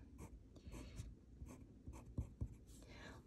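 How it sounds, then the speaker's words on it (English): A pencil scratches and sketches lines on paper while drawing a portrait of Charles de Gaulle, giving close, soft rasping strokes in short bursts with a steady scratchy texture underneath. "Let me just pencil it in lightly, and then we will draw in the line."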